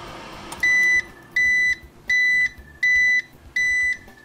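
An air fryer beeps as its cooking cycle ends, giving five clear, evenly spaced electronic tones, each held about half a second, loud and close against faint background noise.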